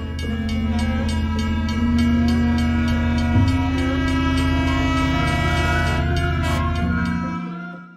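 A train on the Jakarta to Malang line rolls into a station with a loud sustained horn or whistle of layered tones holding for several seconds, then cutting off at the end, close and with no talking.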